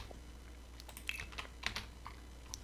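Computer keyboard keys and mouse buttons clicked while building a restaurant in Roblox Bloxburg, several light, irregular taps close to the microphone against a quiet background.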